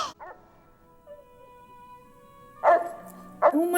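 Nana the dog in a Peter Pan film scene, giving short yips and whimpers at the start, then a quiet stretch with faint tones, followed by two louder bursts of barking near the end.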